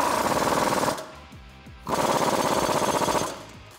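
An impact wrench with a 21 mm socket on an extension tightens the flag nut of a front leveling kit on a Jeep Wrangler JK, working near the drag link: two loud, close, rattling bursts separated by a brief pause.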